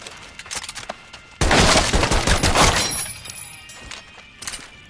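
An M1 Garand semi-automatic rifle fires in Medal of Honor: Above and Beyond, a loud, close report that rings out and decays over a couple of seconds after lighter, sharp clicks.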